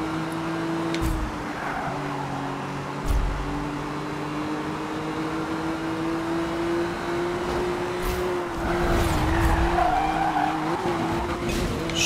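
A car drifts in the racing game Need for Speed Rivals, with a sustained high tire squeal over a steady engine drone and a few thuds and bumps along the way, loud and continuous.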